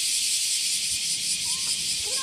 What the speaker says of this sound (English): you can hear the cicadas all around us.